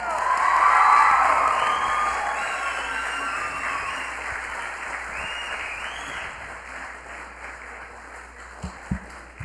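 Students in an auditorium at a cultural heritage symposium clap together in a strong burst of applause with some cheering, loud at first and then fading gradually, with a few claps still sounding at the end.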